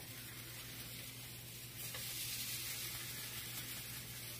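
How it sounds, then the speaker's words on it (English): A steady, close sizzle of cheese and zucchini pancakes frying in a pan, crackling continuously and swelling slightly louder halfway through. "When the cheese starts to sizzle in with them, it gives off such a delicious smell."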